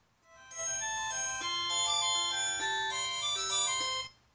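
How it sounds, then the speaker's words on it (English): A Z4 smartwatch plays the second of its three built-in ringtones, a bright electronic melody of stepped synthetic tones lasting about three and a half seconds, clear and close with no talking. "the different ringtones that you have access to"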